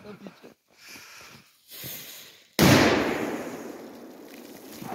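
Firecracker exploding underwater, a single sudden loud burst followed by a churning, fizzing roar of disturbed water that slowly tails off, after brief quiet talk.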